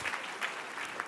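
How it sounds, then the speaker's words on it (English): Audience applause at a dual enrollment recognition ceremony for MCPS and Montgomery College, a steady patter of many hands clapping at moderate distance, brief and fairly faint. "Please applaud all of the committee members and Mike Sullivan"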